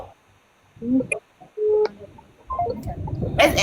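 Telephone keypad tones beep a few times at irregular intervals, short electronic blips heard over voices and room noise.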